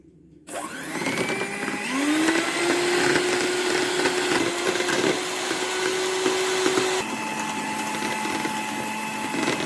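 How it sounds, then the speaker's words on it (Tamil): An electric beater on speed 1 whips cream for a black forest cake, a steady close motor whine that holds constant after a short start, with a brief shift in pitch near the end and no talking. "1 ஸ்பீடு போட்டு க்ரீமை வந்து விப் பண்ணிட்டோம்."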